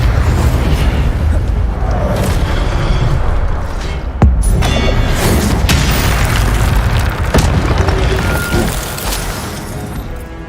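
Fire spell blasts from Hogwarts Legacy, a loud roaring rumble of booming bursts with sharp cracks around the middle, heavy and continuous before easing off at the end.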